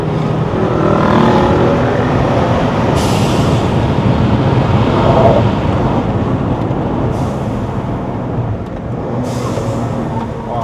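A tuned BMW X5 xDrive35i F15 six-cylinder engine revs hard toward 7000 rpm on a mountain road, a loud steady roar with brief high-pitched bursts that sound like shifts.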